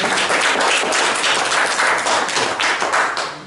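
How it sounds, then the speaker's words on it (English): A live audience claps for the panel after a finance Q&A session, a dense, steady round of many hands close by. It keeps going for several seconds and then begins to fade. "if we could give them a round of applause for their time and commitment"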